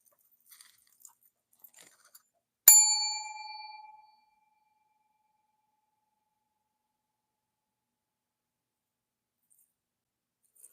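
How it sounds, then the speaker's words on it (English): A single bell or chime is struck once and rings clearly with a bright, sustained tone that fades over about a second and a half. Faint clicks come before it, and silence follows. "Love bells. I love chimes."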